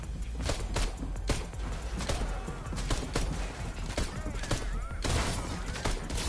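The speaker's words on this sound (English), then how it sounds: "He's just shooting at us." Rapid bursts of video game gunfire crackle and pop in an uneven barrage throughout, dense and fairly loud, with voices talking over the shooting.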